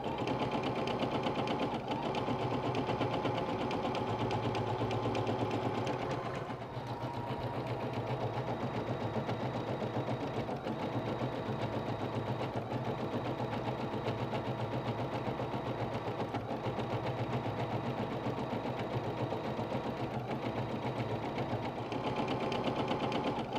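Quiet, steady mechanical hum and fast rhythmic needle stitching of an embroidery machine working a quilted wall hanging, running continuously with a brief dip around the middle.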